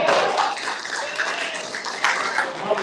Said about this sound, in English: Can we give Mama J a round of applause?